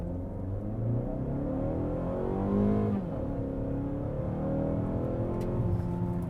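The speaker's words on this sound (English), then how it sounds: "The launch initiation is actually quite good. There's no weird lag." A 2026 Mazda CX-5 with a 6-speed automatic accelerates from a launch, its engine note rising steadily in pitch with a brief shift-like dip midway, heard from inside the cabin at moderate volume with no talking.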